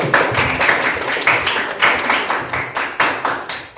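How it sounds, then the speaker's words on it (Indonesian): Classroom applause from a group of students, steady rhythmic clapping filling the room at close range for a few seconds, with no talk over it. "kita beri aplaus dulu"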